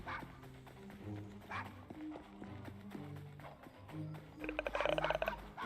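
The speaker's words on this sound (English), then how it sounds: "Nice doggy." A dog in the Assassin's Creed Syndicate video game barks a few times, briefly and fairly close, over steady game music, with a louder burst near the end.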